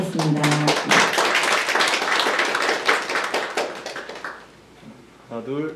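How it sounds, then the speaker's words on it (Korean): Dense applause fills a hall at an award ceremony held by the Nonsan city press association for plaque presentations. Loud, steady clapping fades out after about four seconds, with a voice speaking briefly at the start and the end. "축하의 박수 부탁드리겠습니다."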